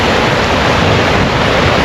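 Steady rushing flow of a river beside a lake in Canberra, Australia, a dense continuous broadband wash heard close and loud with no voices.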